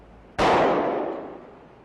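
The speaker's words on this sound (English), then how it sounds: "By shooting this jacketed hollow point bullet into a block of ballistic gelatin, we can show how the bullet expands." A single sharp .40 caliber gunshot, a 155 grain jacketed hollow point fired into a block of ballistic gelatin, cracks loudly and alone, then rings off in a decaying tail.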